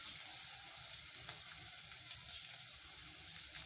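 Tomatoes tipped into cauliflower frying in a pan, giving a steady close sizzle with faint stirring scrapes and no talk.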